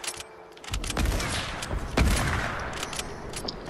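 Gunfire in the Fortnite video game: a quiet opening, then a dense burst of rapid shots around the one-second mark and another loud crack near two seconds. The shots echo and overlap, with no talking.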